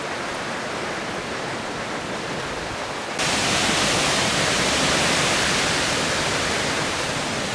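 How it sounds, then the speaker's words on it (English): Strong hurricane wind during Hurricane Ivan in Waleska, Georgia, a loud, dense roaring rush that jumps to an even fiercer level partway through and keeps blasting steadily, with no voices. "That wind is a whipping."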